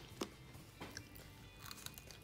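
Crunchy Filipino lechon roast pork being bitten and chewed close up, a few crisp crunches and soft mastication sounds spread across a couple of seconds, fairly quiet with no talking.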